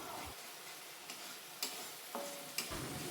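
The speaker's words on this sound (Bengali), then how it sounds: "আর হলুদ দিয়ে একসঙ্গে সব মশলা দিয়ে কষিয়ে নিচ্ছি" Spice paste with turmeric and salt fries alongside rohu fish in a pan, a soft, quiet sizzle punctuated by a few light scrapes and taps of a stirring spoon.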